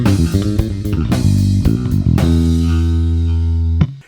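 Slap bass intro riff at about 113 beats per minute, loud and up close, with punchy plucked and slapped notes sliding into long sustained low tones before stopping abruptly.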